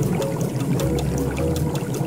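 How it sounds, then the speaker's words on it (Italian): Water from a pot of boiled pasta pours down into a kitchen sink in an Italian children's cartoon, a steady continuous splashing gush lasting about two seconds with no talk over it. "Adesso scolo la pasta nel lavandino"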